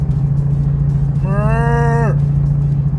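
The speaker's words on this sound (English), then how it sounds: "there's cows crossing the road, there's cows everywhere." A single cow lets out one drawn-out moo close by at a roadside where cattle wander unfenced, over a steady loud engine drone.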